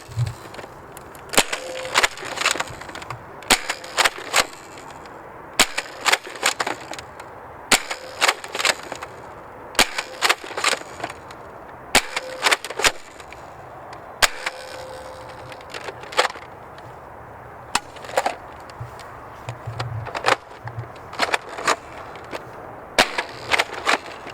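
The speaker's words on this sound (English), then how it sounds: "We're going to be shooting the Longshot CS6 with the Immortal kit in here." A Nerf Longshot CS6 blaster fitted with an Orange Mod Works Immortal kit fires darts indoors, a long series of loud, sharp snapping shots spaced irregularly with brief pauses between them.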